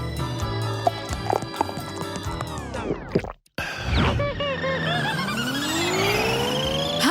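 In a children's animated scene, a small car revs and drives off amid busy cartoon music and sound effects, its whirring engine rising after a brief silent break.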